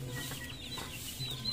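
A young chick sitting on a table gives thin, high peeps, a few brief chirps spread out over quiet room tone, faint and fairly near.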